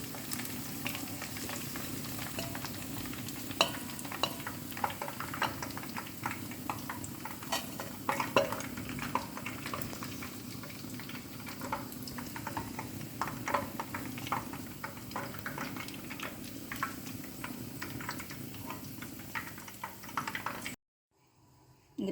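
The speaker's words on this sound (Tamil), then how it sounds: "இப்போது இந்த வெங்காயத்தை நல்லா இந்த மாதிரி பொன்னிறமாக பொரிச்சிக்கோங்க" Onions frying in oil until golden, a steady close sizzle with frequent stirring clatter and utensil scrapes against the pan, continuous for about twenty seconds before cutting off abruptly.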